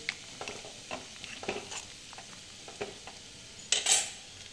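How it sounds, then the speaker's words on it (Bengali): Potatoes and onion greens from a rooftop garden fry in a pan, with a soft sizzle under scattered clinks and scrapes of a stirring utensil that swell into a louder clatter near the end. "এইটা ভাজছি"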